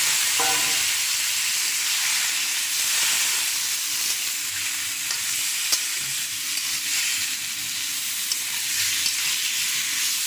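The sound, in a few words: vegetable stalks and water sizzling in a pan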